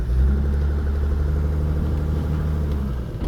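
A Mercedes short-wheelbase van with an OM606 diesel engine drives along, a loud, steady low rumble with a pulsing mid-range throb heard close up throughout.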